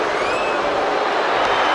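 A wrestling arena crowd in the WWE 2K23 video game roars in a dense, steady wash of cheering, loud and continuous with no clear breaks, during a tag team match.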